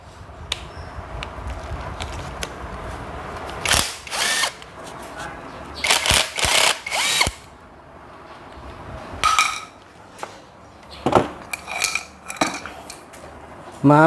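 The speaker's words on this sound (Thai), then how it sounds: "ถอดน็อตยึดกกเผาสี่ตัวออกนะครับ" A power tool removes the four clutch bolts from an RBC 411 brush cutter that has a broken clutch bell, in several loud, short whirring bursts separated by quieter gaps, with metallic clinks of loose parts and tools nearby.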